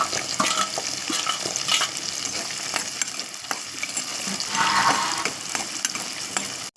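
Small onions sizzle and crackle steadily in a hot pan while being stirred, for a tamarind-based vathal kuzhambu, with a continuous close frying hiss throughout.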